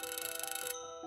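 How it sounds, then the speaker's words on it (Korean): A telephone rings with a bright electronic ringtone, a steady patterned tone that plays clearly and alone, then cuts off near the end. "전화벨이 울렸습니다."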